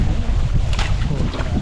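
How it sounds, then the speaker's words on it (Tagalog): Strong typhoon wind buffets the microphone in loud, rumbling gusts, with a rushing, watery roar of floodwater underneath and no voices. "Malakas pa yung hangin"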